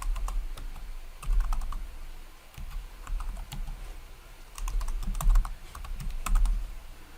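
Bursts of quick keystrokes on a computer keyboard as a password is entered, several clustered runs of clicks separated by short pauses, close and clear with no talking.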